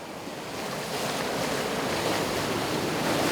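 Rough sea waves surge and break continuously at a dive site, a loud, steady wash of surf with wind buffeting the microphone and building slightly throughout.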